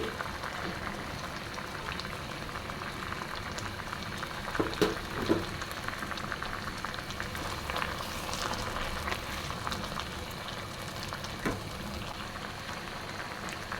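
Papaya pickle simmers over medium heat after tamarind puree is added, a soft continuous bubbling with a few louder pops and stirring knocks, fairly quiet throughout.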